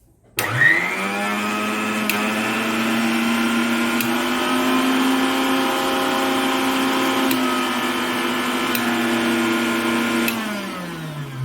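An electric grinder motor starts up and runs at a steady pitch with a strong harmonic whine, then winds down near the end, loud and close with no talking.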